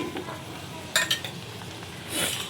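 Kalonji, fenugreek, curry leaves and onion fry in oil for a homemade hair oil, a soft steady sizzle broken by a couple of sharp spoon clinks against the pan.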